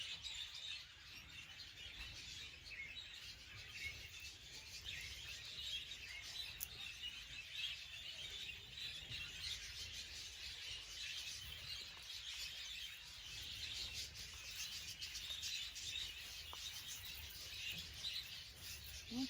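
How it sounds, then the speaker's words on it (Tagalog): Birds chirp and twitter steadily in an organic tomato garden, a dense, continuous chorus of small calls at moderate level with no talking. "ingay ng mga ibon."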